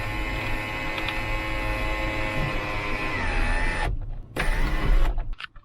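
A Toyota 4Runner sunroof motor whirs steadily as it is actuated to close, a close, continuous electric grind that strains louder toward the end before cutting off abruptly, followed by a few short clunks.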